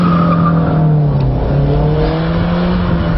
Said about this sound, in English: yank the handbrake, the rear wheels will lock and the back end slides round